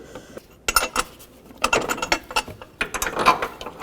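Metallic ratcheting clicks in short irregular bursts as bolts are snugged down during a water pump replacement on a 2009-17 Chevy Traverse, close and moderately loud with quiet gaps between runs.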